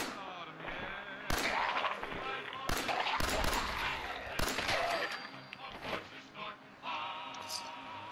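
Video game gunfire from Special Agent Nathan Hale: repeated sharp shots in irregular bursts, loud and close, over a steady background hum with no talk.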